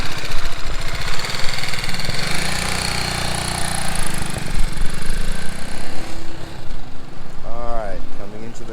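A motorcycle engine pulling slowly in second gear, a steady close mid-pitched drone throughout with a voice speaking over it near the end.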